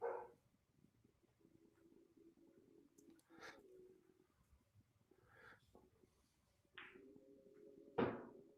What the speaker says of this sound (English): You'll probably hear my dog barking in the background.